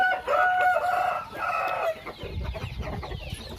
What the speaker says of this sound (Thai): อ๋อมีสวนปล่อยไก่ด้วยนะครับ